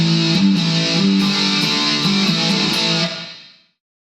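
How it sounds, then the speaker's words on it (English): Distorted electric guitar through a Boss ME-20 effects unit, with chorus and reverb added, plays a brief chordal phrase with a few bright picked accents, loud and up close, then trails off in a short reverberant tail. "And then finally, let me add my reverb."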